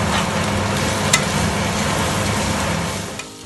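Turmeric, red chili powder, garam masala and ginger garlic stirred into a hot pan for karela masala, a steady loud sizzle with scraping strokes and a faint clink, no voices.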